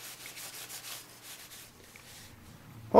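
A rag wipes excess stain off a wooden dowel in soft, rhythmic rubbing strokes, faint and close, pausing briefly near the end before a louder bump.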